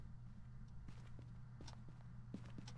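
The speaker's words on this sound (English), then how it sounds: "you do make footstep noises" Footsteps in the ghost-hunting video game Phasmophobia, a series of soft, irregular muffled steps over a steady low hum, no talking.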